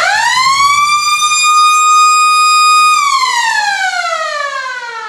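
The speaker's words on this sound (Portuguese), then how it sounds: "Basta ouvir a sirene." A school siren signalling class start, recess and dismissal at a Brazilian school sounds a loud, steady, piercing wail for about three seconds, then winds down in pitch as it fades, with no voices.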